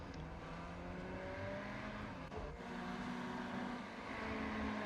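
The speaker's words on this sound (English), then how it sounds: "you could hear just the noise as the cars go over the ripple strips" A Ferrari 488 race car at the Red Bull Ring in iRacing holds a steady engine drone, with a brief rough rattle around the middle as it rides over the curbs.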